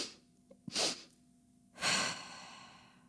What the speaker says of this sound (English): You have to inhale, and then without exhaling, inhale again, and then you release.